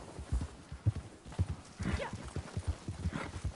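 Horse hooves clip-clop in a steady rhythmic gait in the Red Dead Online video game, with a couple of neighs and whinnies over the riding, close and fairly loud.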